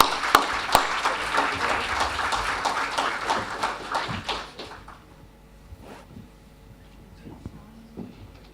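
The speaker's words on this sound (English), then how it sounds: "Give them a round of applause," Audience applause for panel members at a panel event: dense, steady clapping from a crowd for about four seconds, then thinning out and fading into quieter room noise with a few scattered claps and knocks.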